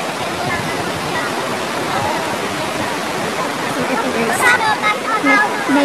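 Steady rushing water from a river flowing near a waterfall at Secret Falls in San Jose del Monte, Bulacan, a broad constant roar filling the clip, with faint voices and splashing near the end.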